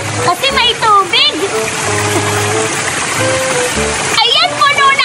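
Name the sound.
water splashing while filling a water gun in a pool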